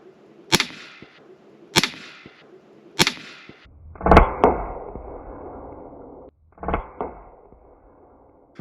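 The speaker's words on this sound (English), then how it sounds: "Now put the bullet in, cock it, and let's shoot it." A gun fires through a SilencerCo Hybrid 46M suppressor. Sharp cracks and clicks sound close by, three evenly spaced, then a louder shot with a brief ringing tail, then a final pair.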